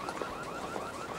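An alarm sounds faintly for a moment as a quick, wavering, repeating electronic tone, with no voices over it.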